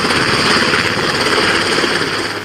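A military helicopter roars over open sea during a US Marines drill, its loud, steady broadband engine and rotor noise filling the whole stretch with no pauses.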